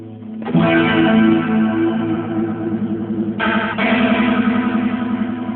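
Electric guitar playing sustained chords with a shimmering, wavering chorus effect, loud and steady, with a fresh strum partway through.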